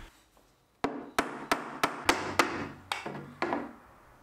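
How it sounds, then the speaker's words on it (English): Hammer blows drive a screw through a plastic wall plug into a timber wall stud during a bungalow wall build: eight sharp, evenly spaced knocks, close and fairly loud, each ringing briefly before the next. "I add a rule plug and then use a screw to hammer it through"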